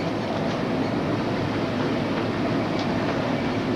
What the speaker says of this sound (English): Train is coming to an abrupt stop.